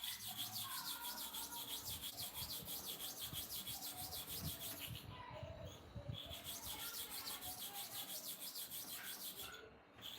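A clipper blade is rubbed by hand across a sharpening surface, its back scraped in a quick, regular back-and-forth rhythm of gritty strokes, close and fairly quiet.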